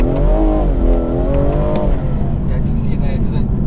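A modified BMW M240i engine revs up through rising and falling pitch sweeps, then eases off into a steady drone, heard loud and close from inside the car.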